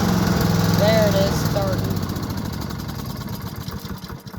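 A Honda-engined push lawn mower starts up and settles into a steady running drone close by, its rhythmic engine pulse continuing throughout with some brief voice-like tones near the start.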